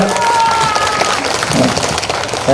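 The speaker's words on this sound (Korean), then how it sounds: "다시 한번 큰 박수 부탁드립니다" Audience at a township residents' assembly and multicultural community event in Korea applauds, a loud, fairly steady crowd clapping with some cheering, and faint voices and stray tones mixed in.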